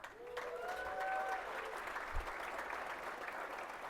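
An audience at the Costa Mesa State of the City Address applauds and cheers, with steady dense clapping and a few whoops, moderately loud throughout.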